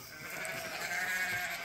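Hardy farm goats kept out in brush pastures, with one drawn-out, wavering bleat sustained at moderate volume and close range.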